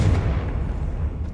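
A Confringo spell blast in Hogwarts Legacy, a single dull, heavy explosive boom with a low rumbling tail and no talking.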